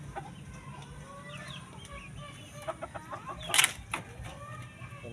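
Four-month-old cockerels cluck and chirp in short, scattered calls over a low background rumble, with one louder burst of calls near the middle.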